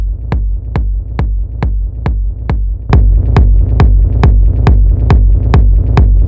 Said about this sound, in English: I layered 2 samples for the kick and 1 for the rumble, which is a deep sustained sub bass.